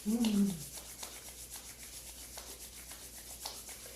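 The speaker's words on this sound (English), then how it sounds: "meeting your hands, rubbing them together so that you actually create a little heat or fire in your palms" Palms rub together briskly during a solstice yoga session, a soft brushing friction that swells briefly at the start, then continues as a quieter, steady rustle.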